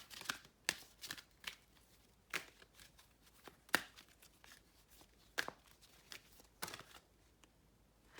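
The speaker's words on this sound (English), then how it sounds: "I'm gonna get from this deck, shuffle a little bit." Quiet, irregular riffling and flicking of cards being shuffled, short papery bursts scattered across several seconds, close up.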